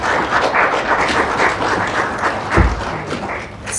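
An audience applauds at a formal event with dignitaries during President Samia's visit to Zambia, a dense, steady patter of many hands clapping that fills the whole moment, with a faint voice underneath.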